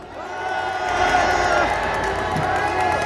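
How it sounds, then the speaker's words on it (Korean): Rally crowd cheering and applauding at a Korean political youth gathering on the eve of March 1st, a sustained loud roar of whoops and claps that swells toward the middle and holds steady throughout. "큰 박수로 모시겠습니다"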